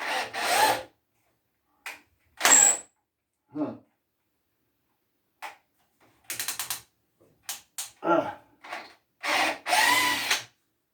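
Drill boring a hole in wood for a rocking chair peg, short separated bursts of whirring and grinding against quiet gaps, close by, no talk.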